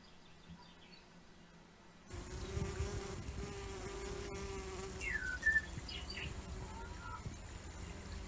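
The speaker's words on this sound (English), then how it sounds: "Here are some bees feeding on the pollen from flowers." Quiet at first, then a steady close buzzing of bees feeding on white campion flowers in a country churchyard starts and continues, with a faint bird chirp in the background.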